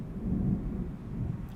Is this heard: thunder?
yes